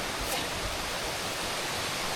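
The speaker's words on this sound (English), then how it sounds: "See the mighty waterfall." Steady, dense roar of rushing water fills the whole clip, a constant broadband wash like a nearby waterfall with no breaks.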